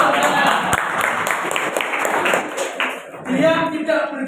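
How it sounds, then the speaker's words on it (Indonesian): Dense classroom applause from students, a steady wash of many hands clapping close by for several seconds, then fading as a voice speaks over the end. "Weh, tepuk tangan, tepuk tangan."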